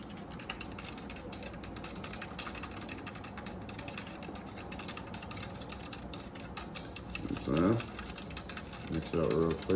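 Plastic spoon stirring a drink in a plastic cup, a rapid clattering scrape that carries on steadily, then a few louder knocks near the end.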